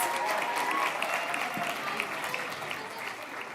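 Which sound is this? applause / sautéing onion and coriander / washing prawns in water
applause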